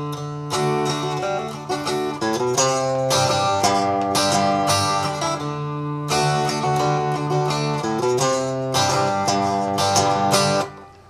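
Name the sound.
guitar playing a riff freely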